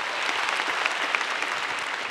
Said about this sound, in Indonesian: Ya, boleh tepuk tangan buat Gautama dong.